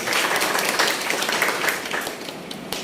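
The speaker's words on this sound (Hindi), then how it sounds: "एक बार ब्रिजमोहन जी के लिए और जोरदार तालियां।" Steady, dense applause from an audience honouring Brijmohan Agrawal at a book launch event in Raipur, Chhattisgarh, sustained clapping throughout at moderate loudness.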